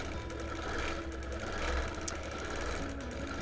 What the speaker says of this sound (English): I'm stitching on a Bernina Q24